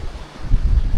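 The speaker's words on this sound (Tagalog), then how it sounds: "Lumalakas na yung hangin dito sa beach." Strong wind gusts across a beach, a rough low rumble of wind buffeting the microphone that swells louder halfway through, with no talking.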